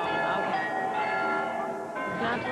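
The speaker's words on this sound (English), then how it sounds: "And the bells went off, and I thought it was 12 o'clock" Church bells ringing in Germany, sustained metallic tones sounding repeatedly over a couple of seconds, with people's voices mixed in underneath.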